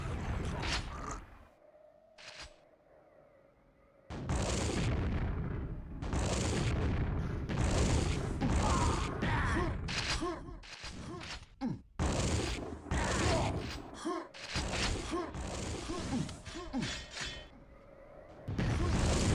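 Rocket explosions from a QuakeWorld video game duel: loud, dense bursts of booming blasts that run almost continuously after a quieter opening, with several sharp impacts stacking on top of each other.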